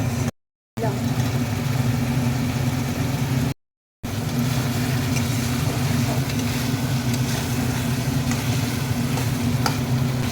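Potatoes frying in masala in a pan while cooking banana flower curry, a steady close sizzle with clattering stirring, briefly cut out twice, and a low continuous hum underneath.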